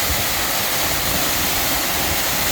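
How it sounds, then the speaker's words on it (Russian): A waterfall roars loud and close, a dense unbroken rush of falling water that fills the whole sound with no pauses or voices. "Так, это водопад."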